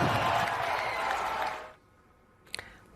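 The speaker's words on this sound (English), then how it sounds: "One basketball fan shouting there, "Go home, ICE." Others applauding." Basketball fans cheering and applauding in an arena during a protest, a dense roar of clapping and shouts that cuts off sharply, followed by near silence and a brief clatter.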